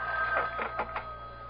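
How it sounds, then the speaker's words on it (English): A telephone bell rings in a short burst of rapid trills, fairly faint, over a low steady hum in an old radio drama setting. "It's the phone."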